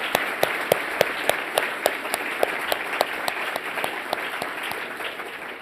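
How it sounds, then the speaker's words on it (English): Conference audience applause for speakers at a closing plenary session, a steady even crowd clapping with distinct, regularly spaced sharp claps from someone nearby punctuating the wash throughout. "So just one more round of applause for our 3"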